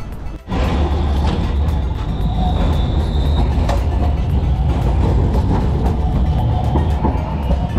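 A train rumbles past close by, steady loud roar with rattling wheels and a faint high squeal partway through, no voices.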